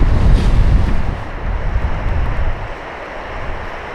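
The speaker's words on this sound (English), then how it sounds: "The snow and the wind." A strong blizzard in the hills with wind and snow, heard as a loud, continuous roaring rush of wind buffeting the microphone that eases slightly toward the end, with no voices.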